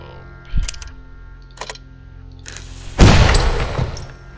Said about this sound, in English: We should lit the bomb.